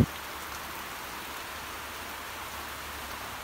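Steady rain falling outdoors over a courtyard, a soft, even hiss without pauses or voices.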